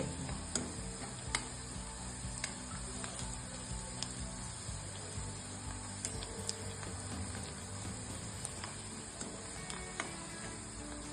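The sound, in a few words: onions frying and being stirred in a pan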